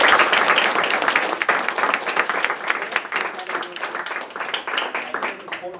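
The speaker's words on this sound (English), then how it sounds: "can we give them another round of applause?" Sustained round of applause from an audience at a town hall on police abuses in Maryland, dense steady clapping lasting throughout with a few voices mixed in.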